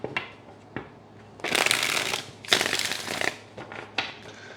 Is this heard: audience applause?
no